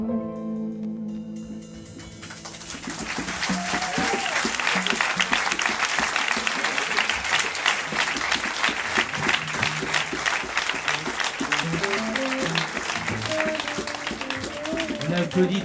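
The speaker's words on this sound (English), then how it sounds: "On applaudit très fort Béatrice, Karine, Chris et Sophie" After a concert in a casino venue, a crowd breaks into loud, sustained applause that swells after the music fades and keeps going for many seconds, with some musical tones and voices mixed underneath.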